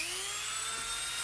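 A large Dremel rotary tool opens up the inner diameter of a hole, a steady high-pitched whine that shifts slightly in pitch as it bites, moderately quiet and alone.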